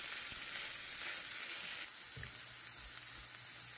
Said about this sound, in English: add your chopped corned beef to the frying pan and mix it all together